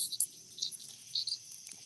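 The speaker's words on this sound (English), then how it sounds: "That is definitely a cicada from hell." A cicada buzzes near a carport, giving a thin, high-pitched, wavering drone with several sharper chirping bursts. It sounds moderately close over a quiet outdoor background.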